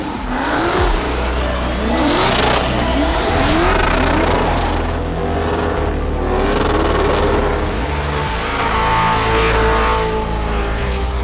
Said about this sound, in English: they just kept the pedal to the metal doing a burnout literally until the car wouldn't take it anymore